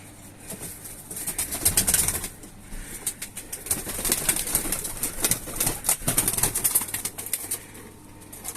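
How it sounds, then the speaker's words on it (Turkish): Pigeons in a backyard coop flutter and flap their wings in repeated bursts of rustling, with soft cooing underneath and quieter gaps between the flurries. "Hepsi zıngır zıngır oynuyor kuşların"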